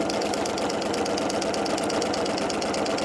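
A sewing machine stitches down the side seam of a drawstring backpack, running in a steady, fast, even mechanical rhythm close by without pause.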